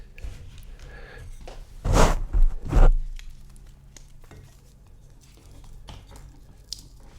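A Ziploc bag holding a budget mechanical watch is pulled open up close, giving two quick crinkly plastic bursts against quiet room tone.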